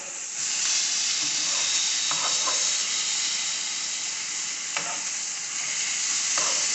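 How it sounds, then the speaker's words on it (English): Freshly flipped chicken breasts sizzle loudly in an oiled pan, a dense, continuous crackling hiss close by, with occasional light taps of a utensil and no voices. "Give these a flip."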